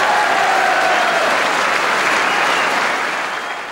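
A snooker crowd applauds at a match, a dense, sustained roar of clapping that holds steady and then begins to fade toward the end.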